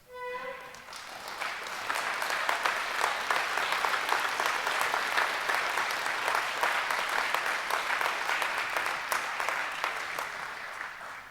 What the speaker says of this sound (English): Stand up so we can give you a round of applause for all of your accomplishments.